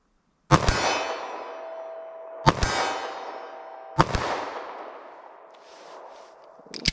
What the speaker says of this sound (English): All right, 25 yards from the target. Let's try our 9mm.